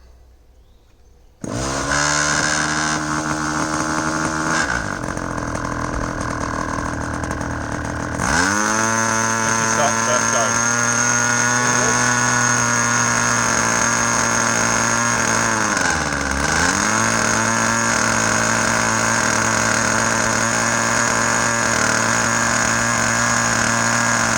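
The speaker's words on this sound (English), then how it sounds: "Now, when you're running a model engine up" Small model glow plug engine sputters to life after a brief pause, then runs at a loud, steady high-pitched buzz, with a dip in revs partway through.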